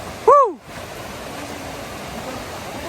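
A forest river flows at a bathing spot near Anakulam in Munnar, making a steady, close rushing roar of water; a brief rising-and-falling tonal call cuts in near the start before the flow carries on alone.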